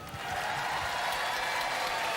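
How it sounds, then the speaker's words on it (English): A Robot Wars studio audience applauds a robot combat battle, the clapping swelling quickly into a steady, fairly loud wash of sound. "Ladies and gentlemen, give them a round of applause."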